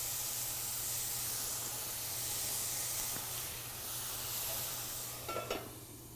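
Salmon sizzling in a pan after lemon juice is squeezed in, a steady soft hiss and spatter throughout, with a few brief clicks near the end and no talk.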